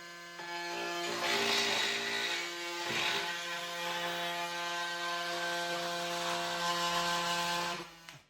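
A Milwaukee oscillating multi-tool cuts into drywall with a steady buzzing drone and a gritty rasp that swells in a few bursts, then winds down at the end.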